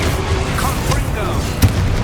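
Confringo fire spell explosion in the video game Hogwarts Legacy, a short sharp boom amid busy combat effects, with a voice speaking over the action.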